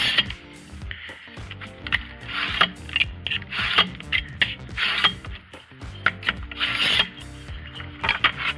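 A utility knife scores a plexiglass sheet in a dense run of scraping, rasping strokes, close and steady, over a tonal background bed.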